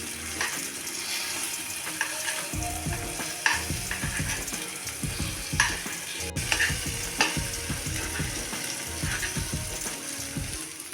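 Food fries in a pan with a constant soft sizzle while a spatula scrapes and flips it in a run of rhythmic scraping strokes, close and fairly quiet.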